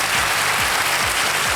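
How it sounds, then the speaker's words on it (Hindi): A studio audience on a televised quiz show applauds loudly and continuously, a dense close wash of clapping hands filling the whole short moment. "जरा तालियां जोर से बज जाए"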